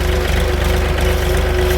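A farm tractor brought to haul a barrel sits idling, its engine putting out a steady, close, rhythmic low chugging throbbing that holds evenly until an abrupt stop at the end, with no talk.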